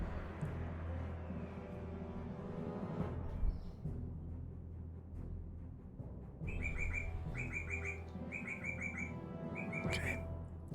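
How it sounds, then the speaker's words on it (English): A loud bird calls outside a window: a steady mix of chirps is followed by repeated bursts of sharp, clear tweets in regular clusters over a low background hum. "That is a loud bird outside my window."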